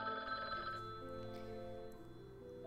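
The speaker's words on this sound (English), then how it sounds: "Suddenly, the phone started ringing." A telephone rings with a steady electronic tone, loud and close, sounding continuously alone with no voices.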